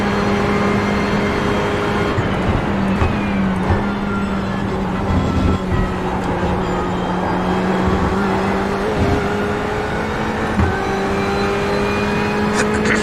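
Porsche GTE race car engine in iRacing at Daytona drones loud and steady throughout, rising and falling slightly as it is driven, with no talk.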